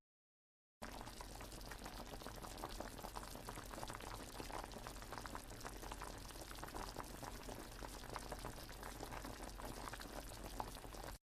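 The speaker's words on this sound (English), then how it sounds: "A tiny breeze stove boiling mountain spring water, bubbling away." Mountain spring water bubbles and simmers steadily in a small pot on a tiny Song Dynasty-style stove, a continuous soft boiling with no voices.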